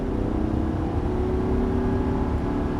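An Audi R8 4.2 FSI V8 engine drones steadily and loudly at high revs in fourth gear, a constant mechanical roar with no letup throughout.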